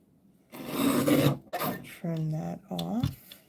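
Paper is trimmed for a framed card scene, producing a short rasping slide of the blade followed by a second quicker scrape, then a voice speaks briefly.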